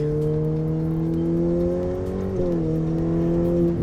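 A Ferrari F8 Tributo's V8 engine pulls hard under acceleration, its steady harmonic drone rising in pitch, then dropping briefly at a quick upshift before climbing again, loud and close from inside the car.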